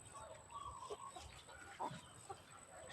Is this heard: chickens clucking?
yes